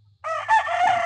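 A white Kelso rooster crows once, close and loud, a strained rising call held for nearly a second over a faint low hum.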